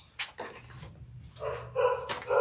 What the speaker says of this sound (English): do you hear the puppies? They're seeing something.